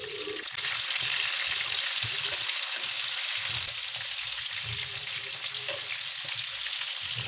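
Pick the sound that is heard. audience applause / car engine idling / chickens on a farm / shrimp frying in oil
shrimp frying in oil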